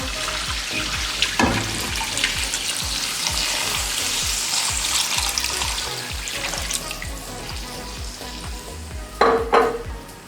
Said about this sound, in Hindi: अब इसमें 4 गिलास के करीब पानी ऐड करेंगे।